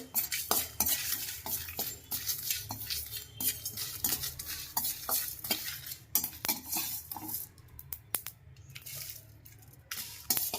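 A spoon stirs and scrapes spices roasting in a pan over a low gas flame for amla pickle, with repeated metallic clinks and scrapes over a soft sizzle and no talking.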